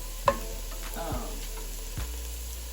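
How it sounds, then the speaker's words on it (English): Okra sautéing in a pan for a Creole okra, corn and tomato dish, with a soft, steady sizzle under a few sharp clicks and scrapes of a utensil against the pan, close and fairly quiet. "we're sauteing our okra, and you know, a lot of the slime is like cooking off"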